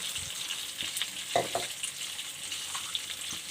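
Onion and spices fry in ghee with a constant hissing sizzle, broken by a few soft scraping stirs and a louder clatter near the middle; close by and unaccompanied by speech.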